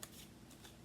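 A single card slides off a deck with a brief, soft papery swish, close and quiet.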